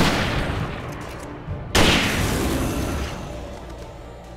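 A pair of heavy gunshots in Alan Wake Remastered, one sharp loud report standing out against a dense, rumbling ambient wash that slowly fades.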